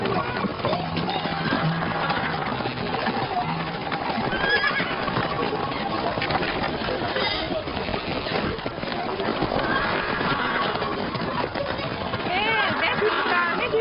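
A horse whinnies and its hooves clop in a historical drama scene, the sounds running steadily throughout under a dense, busy mix with voices present.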